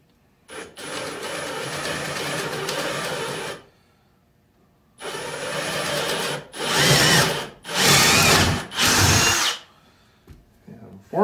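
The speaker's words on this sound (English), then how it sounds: "I'm gonna punch the mill just to make sure we get right down that middle" Wood being cut by a milling machine while shaping a drying rack for face masks, heard as loud sustained machining bursts: a long cutting pass, a pause, then several shorter, louder plunges that stop and start.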